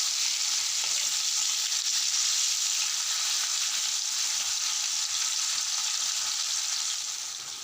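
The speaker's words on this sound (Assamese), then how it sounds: "মাছখিনি ভালদৰে ভাজি" Fish pieces frying in hot oil in a pan for an Assamese fish curry with amara (hog plum), a steady close sizzle and hiss continuing evenly without talk, fading slightly at the end.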